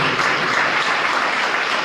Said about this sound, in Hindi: जोरदार ताली के साथ प्रभु को धन्यवाद दें।